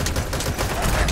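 Rapid burst of gunfire in the Metal Gear Solid 5: The Phantom Pain video game, a short dense volley of close shots lasting about a second.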